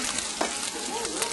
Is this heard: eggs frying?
yes